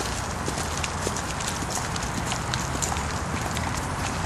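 Quarter horse hooves clip-clopping steadily under a rider on an open working ground, a continuous rhythmic drumming of footfalls with broadband hiss and no talk.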